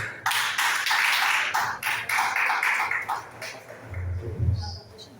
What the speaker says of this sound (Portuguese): Vamos receber o pastor Fabiano das palmas?